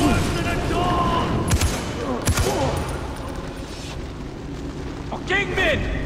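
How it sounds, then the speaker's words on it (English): An explosion in the video game Far Cry 4 booms loudly amid gunfire and battle noise, with a voice talking over the chaotic, dense mix throughout. "An explosion."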